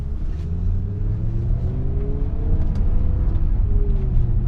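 A V10 BMW M5 driving and accelerating, a loud continuous engine rumble with rising and falling tones as the revs climb through the gear, heard from inside the car.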